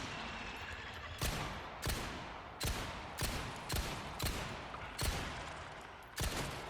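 Pistol shots in Resident Evil 4 VR ring out one after another, about nine sharp cracks at an uneven pace, each with a short decaying tail, with no voices.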